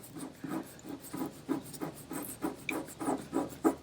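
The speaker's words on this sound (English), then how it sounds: "the nice thing about crayon, I could scrape some of it away" Crayon being scraped off a paper drawing of a chameleon, a rhythmic series of soft, close scratching strokes repeating roughly every third of a second, with no talk over it.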